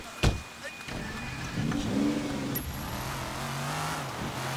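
A car engine in Sleeping Dogs revs and accelerates after a sharp knock, its pitch rising and sweeping through the middle, then settling into a steady drone; a voice briefly speaks over it.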